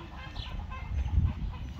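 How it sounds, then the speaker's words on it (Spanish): Chicks cheep and cluck in a low, scuffling jumble, with a burst of agitated peeping near the end, close by and fairly quiet. "Andan peleando los pollillos, pollitos, peleoneros."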